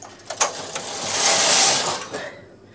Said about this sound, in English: I had to knit back that one last row